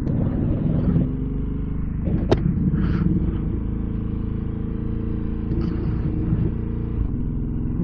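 A Ducati Hypermotard motorcycle engine rumbling steadily and close, a continuous low drone with small bumps and a sharp click, no speech heard.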